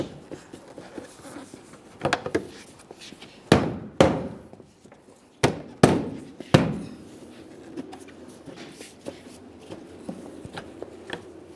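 A Ford Fusion rear bumper cover is tapped into its metal bracket, with several sharp, close knocks in pairs and small clusters between quieter rustling and handling noises.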